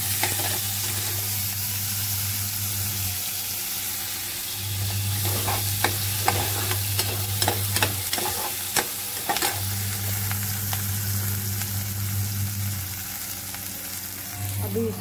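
Dal frying and being stirred in a pot, with a steady loud sizzle and a low hum, while a spoon scrapes and clinks against the pot in repeated short bursts; someone speaks softly now and then.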